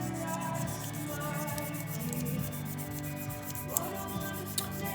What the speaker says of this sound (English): I'll go all the way up to 1200 on this on my dry sandpaper, and then we'll wet sand.